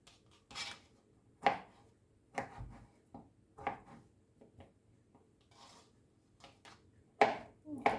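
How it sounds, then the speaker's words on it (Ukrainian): Irregular knife chops through carrots on a cutting board, a handful of sharp knocks spaced unevenly with quiet gaps, fairly faint and close. "Морковку теж нарізаю."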